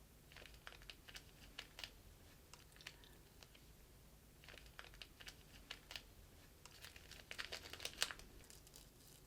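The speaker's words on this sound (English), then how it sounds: "you can feel the paper with the tip of the needle. It makes a little sound as well." Needle tip piercing a paper backing beneath two layers of fabric while setting up Carrickmacross lace, heard as faint, close, crisp little ticks and crinkles scattered irregularly in quiet bursts.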